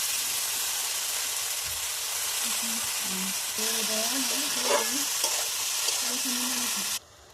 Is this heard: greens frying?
yes